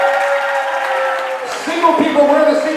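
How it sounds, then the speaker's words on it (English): Wedding guests clap their hands at a reception, a short burst of applause mixed with crowd noise and a voice over music. "Please clap your hands."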